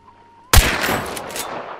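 A single loud, close gunshot in the video game Hunt: Showdown cracks out after a half second of quiet, followed by a long decaying echo and reverberant tail, with no talking.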